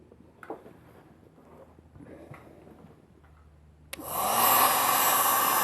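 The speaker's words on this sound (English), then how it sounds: "Use the heat gun" A two-setting heat gun switches on and blows a steady, loud rushing airflow while warming a hazy car headlight, following a few seconds of quiet handling sounds.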